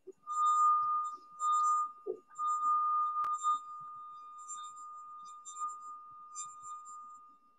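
A struck glass rings out a very high, piercing note, tapped several times in a row with sustained ringing between strikes, fairly quiet and without talk.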